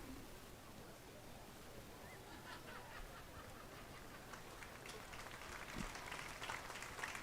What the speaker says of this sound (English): So I'm sure you can hear on the broadcast some clapping.